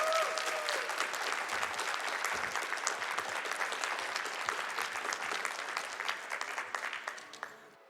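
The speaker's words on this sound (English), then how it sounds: "round of applause for Karma" A crowd at a speedrunning marathon event applauds steadily with dense clapping that holds strong for several seconds before tapering off into a few scattered claps.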